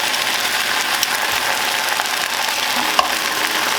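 Meat searing in a hot pan for eggs benedict, a steady, bright sizzle that stays loud and even throughout, with a few small pops.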